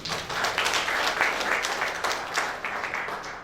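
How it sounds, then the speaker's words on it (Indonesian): A church congregation applauds together in a short burst of steady, dense clapping heard from a moderate distance in the sanctuary. "Tepuk tangan bagi Dia."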